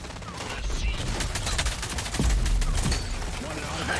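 Artillery strike in the shooter game Rogue Company, a dense rolling barrage of rapid blasts and crackling impacts over low rumble, continuous and loud, with voices faintly mixed in.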